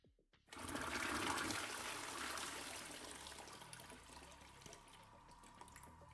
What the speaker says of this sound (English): The toilet flush.